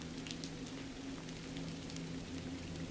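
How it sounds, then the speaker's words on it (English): Rain falling steadily on skylights, a soft, even, continuous patter that stays constant throughout with a faint low hum beneath. "the rain falls steadily on the skylights"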